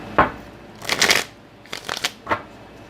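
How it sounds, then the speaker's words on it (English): A deck of playing cards being shuffled by hand in three separate bursts: a sharp riffle, a longer riffle, and a few shorter flutters close to the microphone, with no talking. "Let me give it a little three shuffle."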